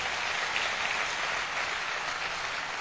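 An audience at a Hindi poetry gathering, a kavi sammelan, applauds in a thick, even roar of clapping that stays at constant loudness throughout, sounding somewhat like steady rain, with no talking.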